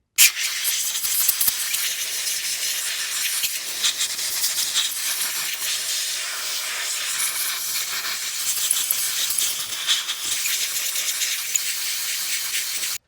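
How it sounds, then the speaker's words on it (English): Compressed air blasts steadily onto a part of a 2015 Scag Cheetah ZT5400 zero-turn mower near a leaking return-to-neutral seal, a loud, close, continuous hiss lasting throughout with no talking. "Let's take a little compressed air, blow it off,"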